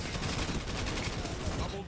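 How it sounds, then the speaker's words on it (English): Continuous machine gun fire in a video game, a dense unbroken rattle of rapid shots filling the whole stretch at close range, ending abruptly. "I can use this machine gun for more free kills"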